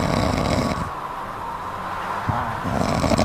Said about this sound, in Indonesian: ini suara ngorok apa gempa bumi?